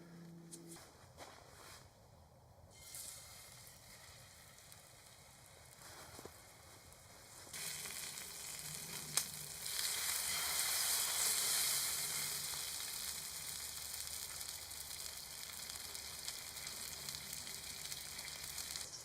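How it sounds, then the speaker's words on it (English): Food is fried in oil on a wood stove inside a hexagon hot tent, with a faint hiss that swells into a steady, louder sizzle partway through. "I'm just going to oil it and pretty simply season it before giving it a fry off"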